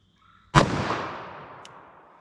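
A single sharp .357 Magnum gunshot fired into a block of clear ballistics gel, loud and close, with a long echoing decay trailing off over two seconds and a faint chirp late in the tail.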